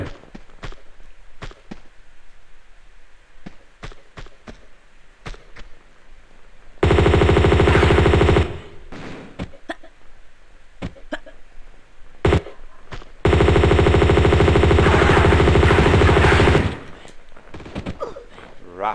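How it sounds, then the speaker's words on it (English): M16 rapid fire in Tomb Raider II comes in two long sustained loud bursts, with scattered single clicks and thuds between them. "Pull out the M16 and save it there this time."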